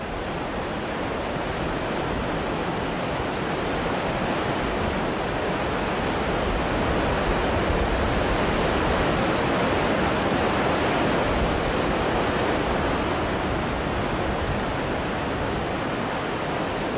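The Zambezi River's falls thunder in a dense, unbroken roar as water churns and boils at their foot, loud and steady throughout with no voices.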